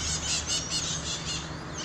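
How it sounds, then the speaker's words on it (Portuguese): Outdoor morning chorus of birds, with bright rapid chirps and trills repeating over a dense insect-like buzz, steady and moderately loud throughout with no talking. "o canto dos pássaros"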